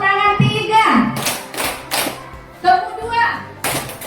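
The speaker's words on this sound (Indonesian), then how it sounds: "Tepuk tangan 1, tepuk tangan 2, tepuk tangan 3" Children in a classroom doing a counting clapping game, with sharp bursts of hand claps in small groups between a teacher's spoken prompts.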